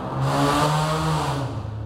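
Traffic on a downtown street in Tallahassee, with a car engine revving and passing close by in one loud, continuous rush that fades slightly at the end.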